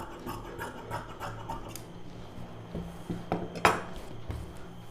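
Scissors cutting along a saree border, repeated short snips and rustling fabric, with a sharp metallic clink as the blades are set down.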